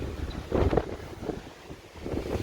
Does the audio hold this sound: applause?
no